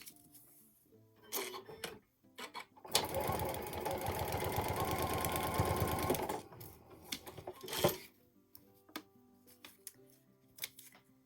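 A sewing machine stitches through fabric while making a mini needle book, running in one continuous loud burst of about three seconds, with quiet handling clicks and a voice speaking before and after.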